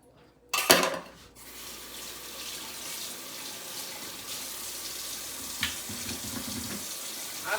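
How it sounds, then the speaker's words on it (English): Water runs steadily from a kitchen tap for hand washing, starting with a louder gush and then a continuous stream at moderate level, with no talk over it. "Wash my hands."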